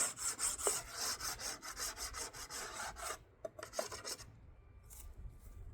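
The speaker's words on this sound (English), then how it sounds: "So we're gonna clean this off. Scrape all this propolis off." Repeated rasping scrapes of a tool taking propolis off a beehive part, close and steady strokes for about three seconds, then a few sparser scrapes and quieter rustling.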